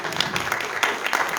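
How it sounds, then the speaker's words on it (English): An audience at a Kathak dance teaching conference applauds with steady, dense clapping that fills the short moment without any talking. "A big round of applause, please."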